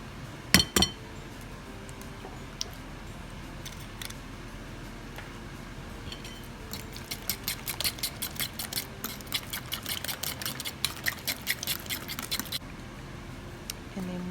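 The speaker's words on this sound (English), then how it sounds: "Now I'm adding 2 eggs and giving those a mix." Two eggs being mixed into mashed ripe bananas, a fork or spoon clinking against a bowl in a quick rhythmic run of small taps after a couple of louder knocks.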